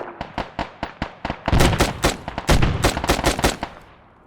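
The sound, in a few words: gunfire in video game Arma 3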